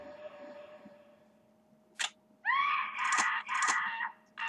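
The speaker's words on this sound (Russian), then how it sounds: "Она заебала уже орать" Shrill wailing screams from a woman enemy in Parasite Eve 2, several loud sustained cries in quick succession after a sharp burst, alone over a low steady game hum.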